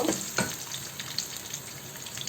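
Chopped garlic sizzles steadily in a hot pan, a continuous crackling fry with a couple of light stirring knocks.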